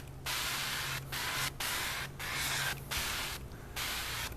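Chosen Foods avocado oil sprayed onto hot charcoal grill grates in five short, loud hissing bursts with brief pauses between them, no talking.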